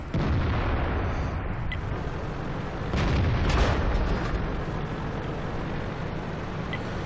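Tank cannon shots in World of Tanks, with a T28 HTC heavy tank in the battle: deep booming blasts, one loud burst swelling midway, over a constant low rumble of engine and battlefield noise.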